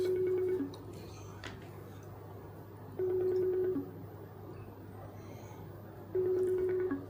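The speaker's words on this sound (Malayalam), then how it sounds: "റിംഗ് വന്നുണ്ട് കേട്ടോ" A phone repeats a ringback tone in three evenly spaced bursts, each about half a second long, over a steady low background hum, with faint household noise between the rings.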